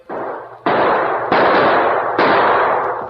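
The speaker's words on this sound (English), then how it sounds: "they were suddenly startled by gunshots from the gully behind them" Four loud gunshots from a gully crack in sequence in an old-time radio drama, each a sharp blast followed by a long rumbling echo, spaced roughly evenly apart.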